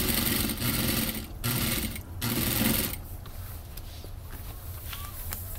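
A Hakari single needle sewing machine stitches jean fabric in three short close bursts of rapid mechanical whirring with brief pauses between, then falls to a quieter hum with faint clicks.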